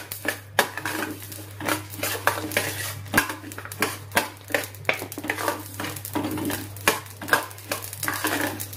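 Fenugreek and mustard seeds dry roasting in a pan, a spoon scraping and clinking against the metal in quick irregular strokes over a faint background hum.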